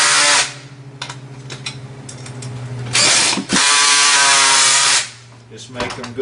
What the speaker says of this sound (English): I've already got this drill set.